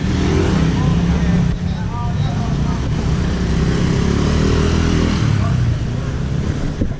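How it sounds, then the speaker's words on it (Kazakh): Continuous roar of street traffic in Bali with motorcycle engines droning and revving nearby, loud and unbroken throughout. "Мотоциклдар толып отыр."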